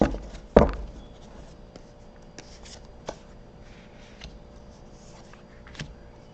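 Tarot cards are shuffled and dealt onto a surface, with a sharp riffle near the start followed by soft, scattered slaps and slides as cards are laid out one by one, close and quiet.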